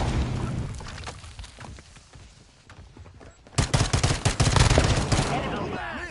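Gunfire and a grenade blast in the video game Call of Duty 2, scattered shots at first, then a sudden loud eruption of dense rapid gunfire and booms that stays intense to the end.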